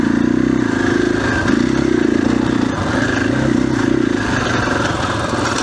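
A 2021 KTM 500 EXC-F dirt bike being ridden, its single-cylinder engine holding a steady, fairly even drone throughout with a few clattery mechanical noises and no voices.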